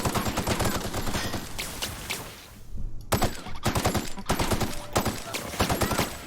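Video game gunfire in The Outer Worlds: rapid automatic bursts, loud and close, broken by a short lull before more rattling volleys resume.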